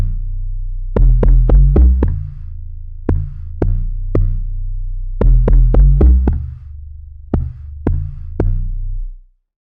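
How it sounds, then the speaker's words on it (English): An amapiano log drum FM bass plays deep, booming plucked hits in syncopated clusters with short pauses between them, loud and alone with no voices, then cuts off sharply at the end. "Then I've got my other log drum here"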